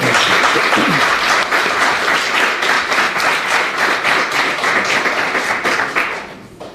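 Loud applause from a crowd, steady dense clapping throughout that begins to fade out at the very end.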